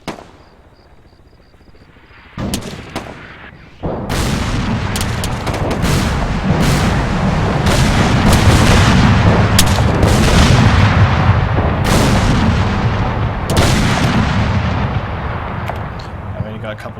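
Artillery fire and explosions in the military video game Arma 3, a sudden loud boom followed by a sustained, dense roar of heavy blasts and rumbling gunfire that stays intense for many seconds.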